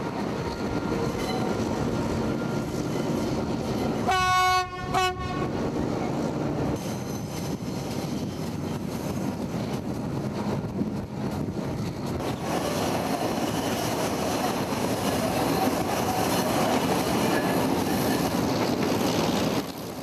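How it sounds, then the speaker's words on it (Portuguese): Passenger train rolling through the Andes toward Riobamba, Ecuador, a steady loud rumble of wheels and carriages throughout, with a brief harmonic horn-like tone early on and no talking. "Este trem partiu das regiões montanhosas, mas está indo para altitudes mais baixas."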